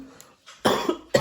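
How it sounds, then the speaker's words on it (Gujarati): A person coughs twice in quick, loud, close bursts, with a short quiet breath sound just before. "ઉધરસ પારે થઈ ગયો"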